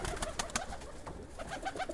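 Pigeons coo at a busy town market in Zgierz, soft repeated calls mixed with a steady crowd murmur and scattered bustle, fairly close and continuous.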